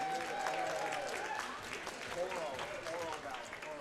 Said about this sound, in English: Let's give our students a nice big round of applause